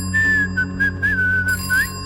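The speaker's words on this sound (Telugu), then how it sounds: "ఇక లాస్ట్ లో విజిల్." A clear, melodic whistled phrase of several sliding notes closes the title teaser for the Rajinikanth film Coolie, ringing out over a low steady hum.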